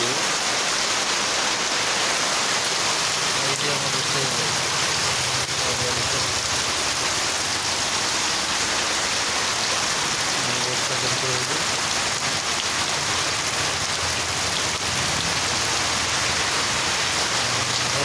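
Steady heavy rain pours down on house roofs, a continuous dense hiss with no pauses and faint voices buried underneath.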